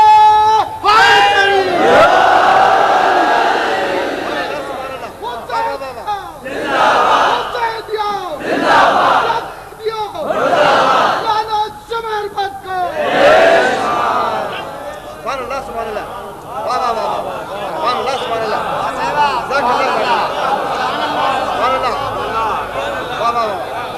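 A large crowd at a religious gathering majlis in Khairpur chants slogans in loud rhythmic call-and-response bursts, voices swelling together in repeated waves, with a leader's voice prominent early.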